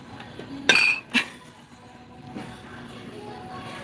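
A ceramic butter holder handled at close range, giving two sharp clinks of ceramic in quick succession followed by quieter rustling in a calm room.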